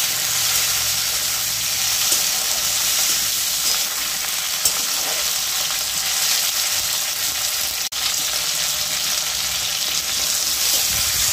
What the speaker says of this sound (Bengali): টমেটোটা একটু আলুর সাথে মিশিয়ে ভেজে নেব